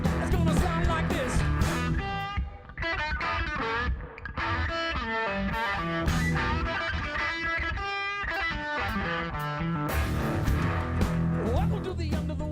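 An excerpt of dense, distorted rock music from an album plays continuously, full and driving with gritty guitar tone and shifting sections throughout.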